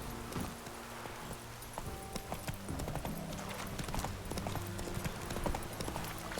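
Roach, a horse in The Witcher 3 video game, trots along with a continuous stream of hoof clip-clops over a busy, dense background of ambient game sound.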